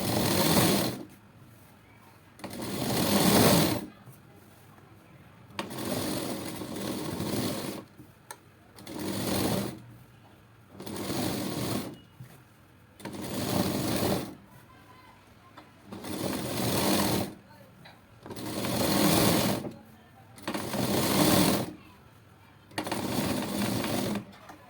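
A sewing machine stitches a strip for a blouse in repeated runs of several seconds each, a steady close whirring that starts and stops about eight times with short quiet pauses between.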